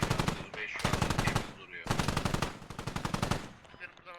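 Automatic gunfire in the tactical shooter game Squad comes in two long, loud, rapid bursts separated by a short pause, close and dominant over the mix.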